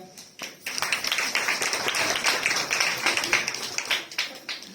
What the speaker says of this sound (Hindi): पास्टर जी के लिए जोरदार तालियां।